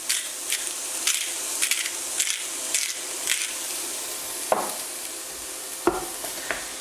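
Chopped onions, bell pepper and grated carrot, salted and peppered, sizzling softly in a pan while a utensil stirs and scrapes, giving light clicks and scuffs over a quiet, steady hiss.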